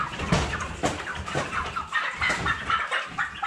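Cobb 500 broiler chickens cluck repeatedly and irregularly at close range, with soft rustling between the calls.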